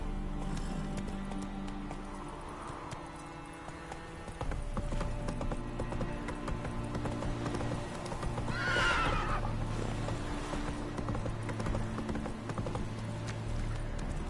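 Roach, a horse in the video game The Witcher 3, clip-clops along in a steady rhythm under game music, then lets out one clear, loud neigh partway through.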